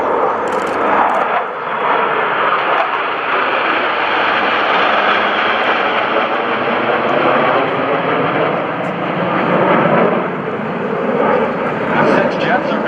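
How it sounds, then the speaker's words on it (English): A fleet flyby of naval jets from NAS Oceana at the 2012 airshow: a loud, steady, broad jet roar that holds for the whole stretch and swells slightly as the aircraft pass. "Ladies and gentlemen, from your left, the aircraft of NAS Oceana and the Fleet Flyby."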